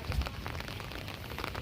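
Rain falls at night in a dense neighborhood of narrow alleys, a steady, moderate patter on surfaces with a brief low thump near the start.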